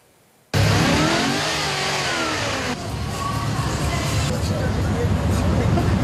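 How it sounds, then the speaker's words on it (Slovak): American cars driving into the town square in Prievidza, engines roaring loud and close right from the start, a steady heavy motor noise with revving and a crowd murmuring underneath. "Námestie zaplavili autá, ktoré bežne na ceste nevídame."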